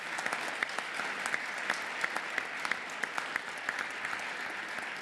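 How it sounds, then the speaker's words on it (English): Steady audience applause at the closing ceremony of an environmental conference, a dense wash of many hands clapping with a few sharper claps standing out, sustained throughout at moderate level. "And so give them another great big round of applause."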